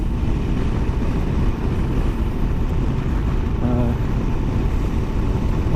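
A Honda Africa Twin motorcycle cruises along on an out-of-town ride, a constant rumbling engine and road drone filling the whole stretch, close and steady.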